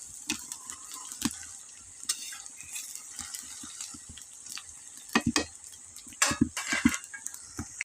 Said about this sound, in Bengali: এখন আমি হালকা হালকা করে আগুন আঁচ দিয়ে আমি ভাজে নেব।